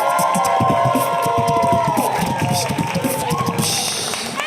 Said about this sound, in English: Please give loads of love, loads of screams, shout, claps, just make loads of noise for the wonderful Davina Bentley, everybody